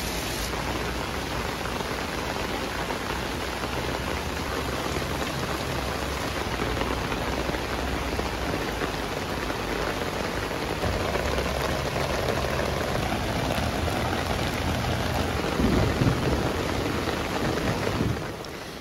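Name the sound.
heavy rain on a tent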